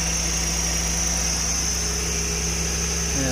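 A Suzuki Multicab mini van with a small engine of 600 to 800 cc idles close by, a loud, steady hum with a constant high whine on top and a small shift in tone near the end.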